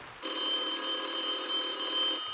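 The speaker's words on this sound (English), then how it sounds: "The phone rang" A telephone rings as a radio drama sound effect, one sustained electric bell ring about two seconds long, close and steady with no talk.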